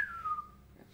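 A person whistles in imitation of a parrot: a single thin gliding tone that slides downward, fairly quiet and heard on its own with no talk.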